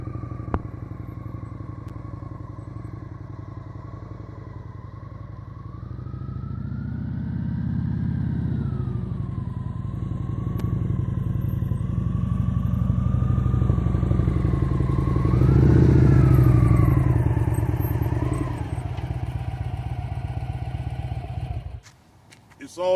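A motorcycle ridden very slowly at 1-2 mph with the brake held, its engine a steady mid-pitched drone. The engine swells gently in the middle and drops off near the end.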